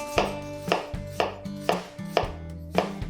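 A knife chops through half an onion on a board, six evenly spaced crisp strikes, close and alone.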